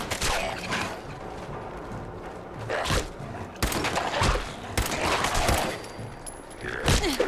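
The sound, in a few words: gunshots in video game Fallout 4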